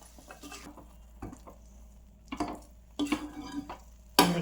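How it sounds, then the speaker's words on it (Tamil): A spoon stirs chili powder into hot amla (gooseberry) pickle in a pan off the heat, giving soft scraping strokes that grow louder toward the end, ending in a sharp clatter. "ஹீட்லேயே நம்ம மிளகாத்தூளை போட்டு கிண்டிடலாம்"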